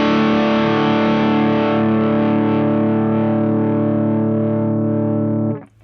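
Electric guitar through a Caline Andes overdrive pedal plays one sustained, distorted chord that rings thick and steady for several seconds before cutting off abruptly, loud and alone.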